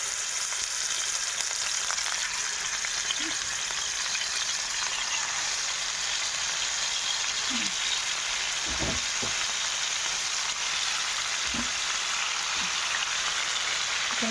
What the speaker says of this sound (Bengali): এদিকে হচ্ছে মুরগির মাংসটা ভাজা হচ্ছে রোস্টের জন্য